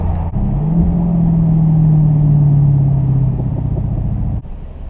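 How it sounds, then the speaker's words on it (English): A 2017 Dodge Challenger 392 HEMI Scat Pack Shaker V8 rumbles loudly and steadily in sport mode, its tone rising into a sustained drone before easing off and dropping back to idle. "when you put it in sport mode, the exhaust gets a little louder"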